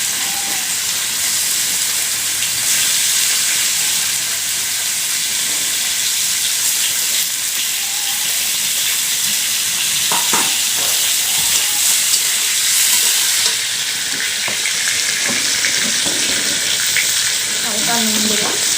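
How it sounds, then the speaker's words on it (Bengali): Cauliflower florets frying in a pan of hot oil, a loud, continuous hissing sizzle throughout with scattered crackles and pops near the end. "তো আমি ফুলকপিগুলো ভেজে নেব।"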